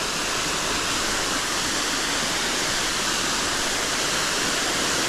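Cold, clear water pours steadily from a spout into a small built pool in Cunha, São Paulo, making a constant loud rushing splash with no pauses or talk.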